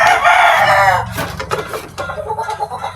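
Hens and a rooster at afternoon feeding time in a backyard poultry pen at dusk, crowing and clucking loudly up close for about a second, then scattered clucks and rustling continue more softly.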